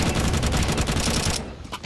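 Dense automatic gunfire in a Counter-Strike match at an esports tournament, loud rapid shots for over a second before cutting to quieter, sparser sounds.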